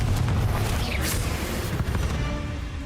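A Confringo spell in the Hogwarts Legacy video game bursts with a short fiery blast, a brief crackling explosion over continuous game background noise.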